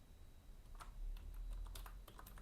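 Quick, light clicking of a computer keyboard as Python code is typed, irregular keystrokes in small bursts, close and fairly quiet over a low background hum.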